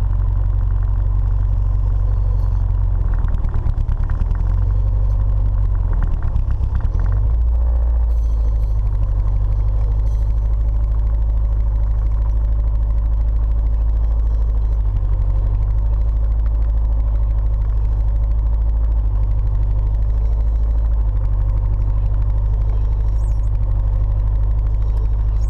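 A turbocharged Nissan 240SX engine idles steadily while drawing in Sea Foam cleaner, a continuous low rumble heard up close with a brief uneven dip partway through.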